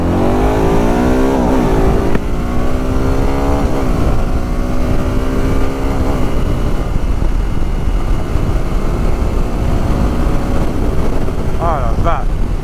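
A 2011 Can-Am Spyder RSS 990 three-wheeled motorcycle's engine revs and accelerates loudly, pitch rising through several gear shifts, close by with steady roar throughout.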